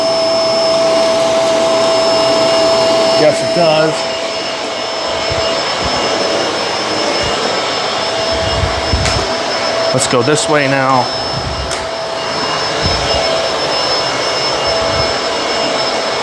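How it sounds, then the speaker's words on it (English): Bissell Multi Clean Allergen Pet vacuum cleaner running steadily at close range while picking up dirt, a constant roaring whine with brief rattling pickup bursts, a person talking briefly over it. "You can hear all dirt that the machine is picking up."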